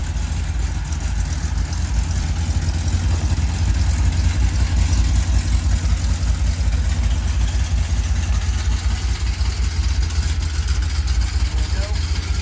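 Rebuilt Chevrolet C10 truck engine idling close by, a loud, steady, low rumble with a fine, even pulse that holds for the whole stretch without stalling.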